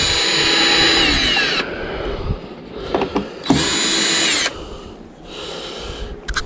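A power drill backs screws out of a scrapped autoclave, whining loudly in long steady bursts broken by short pauses and clanks of loose metal parts.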